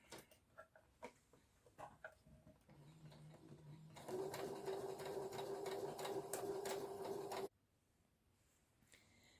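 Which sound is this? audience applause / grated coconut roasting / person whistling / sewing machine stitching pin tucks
sewing machine stitching pin tucks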